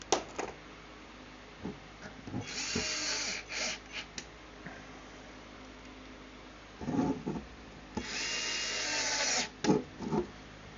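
A power drill drives screws into a 1/14 scale model trommel screener, with two whirring bursts of a few seconds each, plus short handling clicks and knocks in between, close and fairly loud.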